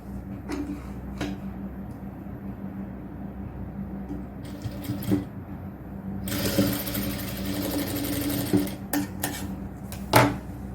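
A sewing machine stitches fabric for a triple-frill nighty in two colours, running in short bursts with pauses and clicks between, then a longer steady run near the middle, all close by.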